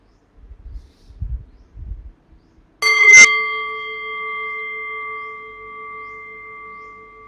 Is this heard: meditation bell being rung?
yes